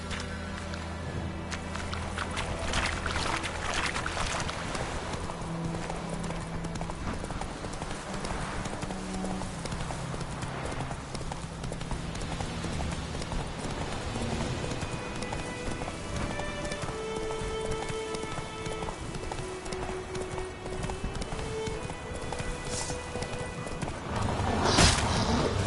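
A horse gallops in The Witcher 3 video game, giving a steady rhythmic clip-clop of hooves throughout, close and continuous over ambient rain-like noise and background game sound.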